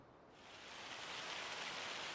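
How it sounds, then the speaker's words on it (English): Hail falling in a farming video game, a dense rushing patter that swells in over the first second and then holds steady, moderately loud and alone. "Oh, that sounds like hail."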